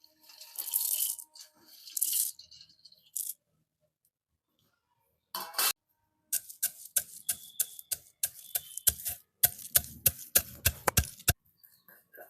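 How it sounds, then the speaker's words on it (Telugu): Chana dal being pounded and ground in a stone mortar, a run of sharp, rhythmic knocks of stone on stone, close and fairly loud, preceded by a few scattered scraping noises. "శనగగుండ్లు పచ్చడి రోట్లో నూరి చూపిస్తానండి"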